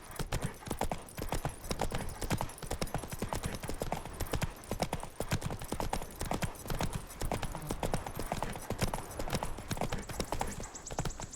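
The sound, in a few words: horse Roach trotting in video game Witcher 3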